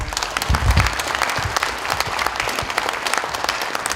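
A crowd at a lawmaker's constituency report meeting claps steadily, dense sustained applause that fills the whole stretch with no voices over it.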